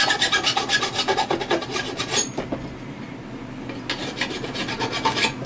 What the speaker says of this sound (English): Take a little file and get rid of the burr.